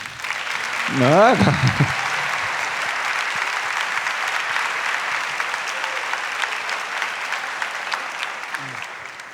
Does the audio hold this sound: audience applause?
yes